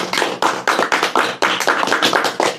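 A small gathering claps at an Islamic study session on a campus, roughly ten distinct sharp bursts of hand claps in an uneven rhythm, close and loud, with no talking.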